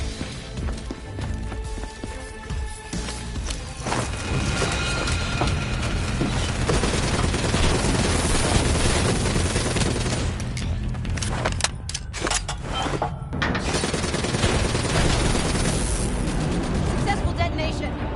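Grenade blast and gunfire in Call of Duty: Black Ops 3, a loud, dense wash of booms and shots that runs throughout with voices talking over the battle.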